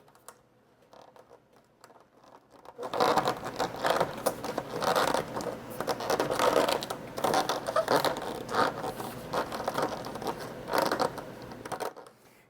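A hose is worked onto the fitting of an Ikier D1 air smoke purifier for a laser engraver: close rustling, scraping and rubbing start after a quiet opening and continue for several seconds before stopping.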